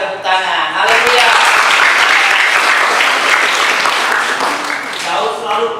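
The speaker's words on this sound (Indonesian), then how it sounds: "Tepuk tangan, haleluya." Congregation clapping at an Indonesian church holiday Bible school session, a loud sustained round of applause with a voice speaking over its start and end.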